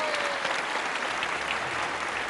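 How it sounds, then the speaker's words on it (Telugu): Studio audience applause on a Telugu game show, a dense, steady roar of many hands clapping at once that holds at an even level throughout. "చప్పట్లో రండి"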